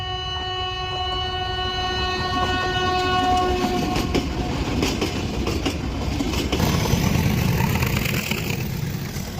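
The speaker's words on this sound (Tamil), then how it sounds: "நீங்கள் இப்போ பார்த்துட்டு இருக்கிறது யுனெஸ்கோ ஹெரிட்டேஜ் ரயில் வருது." The UNESCO heritage Ooty mountain toy train sounds a long, steady horn for about four seconds, then passes close by with loud rumbling and clickety-clack wheel noise that swells toward the end.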